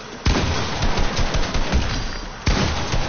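A charge shotgun fires in a video game, with a few loud, sharp blasts over a constant rumbling game backdrop.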